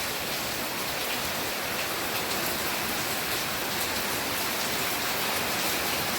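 Heavy, steady rain pours down with a dense, even hiss that never lets up.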